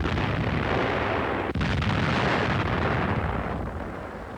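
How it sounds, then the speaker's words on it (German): Finnish artillery pounds away in a wartime newsreel, a dense, continuous roar of heavy gunfire and blasts with one brief dip, loud and sustained throughout with no speech. "Die finnische Artillerie kämpft auf diesen Widerstand nieder."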